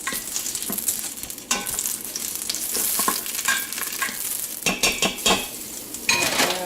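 Bacon grease melts and fries in an Instant Pot, a loud, close sizzle with repeated scraping and clinks of a utensil stirring against the metal pot.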